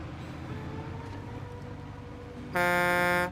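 Horn honking during Snowrunner truck gameplay: a single loud, steady buzzing blast near the end, lasting under a second over low engine rumble.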